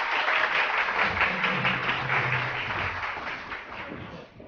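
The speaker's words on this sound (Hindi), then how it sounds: "बहुत सारी तालियां।" Studio audience applause on a morning television show, a dense patter of clapping that gradually fades, with a faint low voice murmuring underneath partway through.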